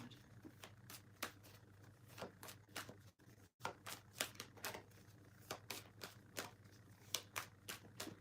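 A deck of tarot-style oracle cards is shuffled and drawn during a live reading, producing a run of crisp, rapid riffling flicks and soft slaps, close and fairly quiet, with a low steady hum underneath and no talking.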